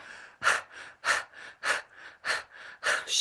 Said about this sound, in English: stick out your tongue far and wide as a dragon tongue and do breath of fire